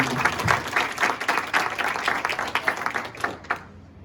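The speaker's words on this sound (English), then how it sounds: "Let's give Jason a round of applause." A small audience at a martial arts black belt ceremony applauds a student, a lively burst of clapping close by that tapers off near the end.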